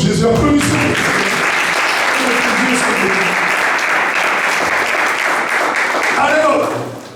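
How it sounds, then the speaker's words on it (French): A church congregation claps loudly and continuously for Jesus at a sermon, dense sustained applause that fades at the very end, with voices mixed in. "Et nous applaudissons pour Jésus."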